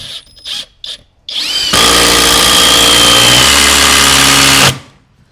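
A Flex power drill boring holes: a few short bursts and bumps first, then one long, loud, steady whine held for about three seconds before it stops, close by with no talking over it.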